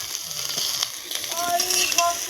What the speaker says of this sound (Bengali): এটাকে বন্ধুরা হালকা হালকা ভিন্ডি ভাজা হয়ে গেছে